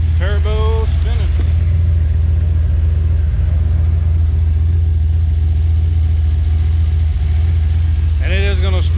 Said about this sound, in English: turbo spinning